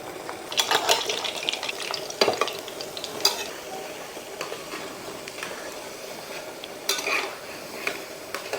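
Gulab jamun balls made from bread frying in oil on low heat, a continuous gentle sizzle with occasional scraping stirs and light clinks of a utensil against the pan.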